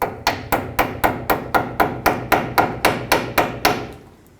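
Quick, evenly spaced hammer taps bend lock washer tabs over on an inner tie rod of a 2001-07 Toyota Sequoia, about fourteen sharp metallic strikes in a fast steady rhythm, close and loud, ending abruptly.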